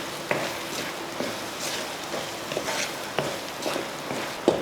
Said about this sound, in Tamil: அடுத்து மல்லித்தலை, கொஞ்சம் கருவேப்பிலை, 2ஐயும் போட்டு மறுபடியும் ஒரு கிளறு.